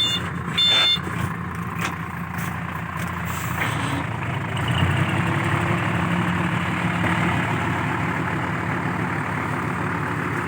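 A heavy tractor engine runs steadily and rumbles at close range while working wet, heavy soil, with a few sharp clanks near the start and no one speaking.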